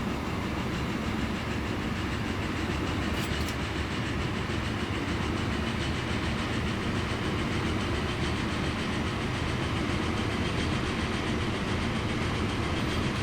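Freight train running in the video game Transport Fever, a continuous dense rumble with steady rail noise, constant and fairly loud throughout, no voices.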